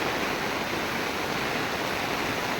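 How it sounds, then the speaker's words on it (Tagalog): A steady, powerful roar of rushing floodwater fills the whole clip, broad and unbroken, with no voices, in Palompon, Leyte, Philippines. "sobrang lakas talaga ng tubig"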